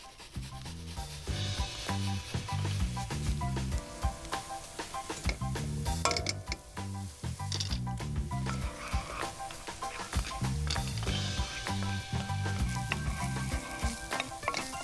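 Shallots and minced garlic fry in a pan with a close, bubbly sizzle and crackle, broken by irregular stirring and scraping sounds, with no talking.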